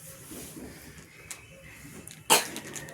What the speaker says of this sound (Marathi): आला का खोकला? कसा आला खोकला आता?